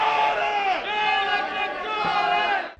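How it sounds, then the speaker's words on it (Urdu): Angry crowd at a NEPRA public hearing chants slogans against K-Electric, many voices shouting in unison, loud and close, sustained for a few seconds before cutting off. "عوامی سماعت میں کے الیکٹرک انتظامیہ کے خلاف شدید نعرے بازی ہوئی"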